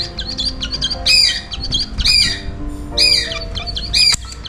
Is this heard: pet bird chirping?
yes